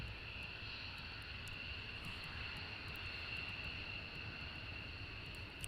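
F-35 fighter jets at RAF Lakenheath make a faint, distant, steady engine roar that continues without a break, with no voices over it.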